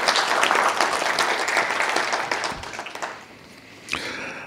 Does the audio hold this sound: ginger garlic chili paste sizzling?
no